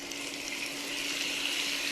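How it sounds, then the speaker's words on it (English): Constant hissing sizzle of pork cubes frying in a hot skillet on medium-high heat, steady and close, with no talking. "And in goes our pork on medium-high heat."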